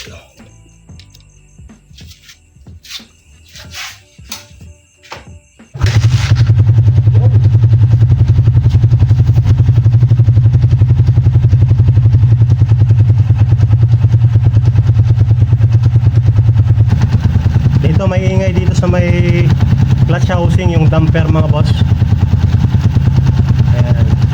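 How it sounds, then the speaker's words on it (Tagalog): A Honda TMX 155 motorcycle, left standing for three months, is kicked a few times over quiet clicks. Its engine then catches and settles into a loud, steady single-cylinder idle with a low throb, while someone talks over it. "kickstart natin. Tignan natin kung one click."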